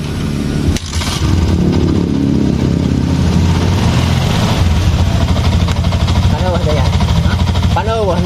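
A Yamaha Jupiter MX motorcycle engine with a rough-running fault starts and runs nearby with a loud, steady, slightly uneven chug, while voices talk over it.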